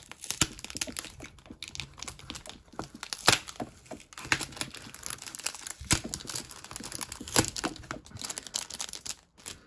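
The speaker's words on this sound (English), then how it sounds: "See if we can get the Kaiba packs off" Stuck Duelist Pack Kaiba foil packs from a Yu-Gi-Oh Yugi & Kaiba collector box are tugged and peeled loose, giving close, irregular crinkling, rustling and tearing bursts with sharp cracks and no talk.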